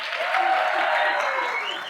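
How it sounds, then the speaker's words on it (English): Conference audience clapping at the opening of a Business in Society event, a dense, steady burst of applause that fades slightly at the close. "Stage 3 applause, please, to build up the excitement for Business in Society Conference for 2022."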